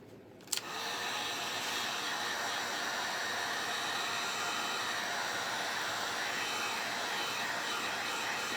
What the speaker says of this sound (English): So funny using the heat gun. You can, the heat tool. You can see it dry.